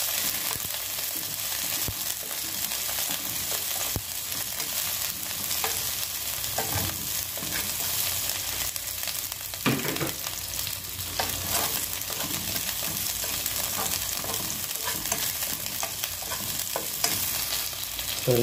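Beef skin and onion fry in a pan with a loud, dense, continuous sizzle and crackle, punctuated by occasional scraping and stirring knocks close by, with no voices.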